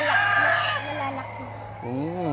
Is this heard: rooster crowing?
yes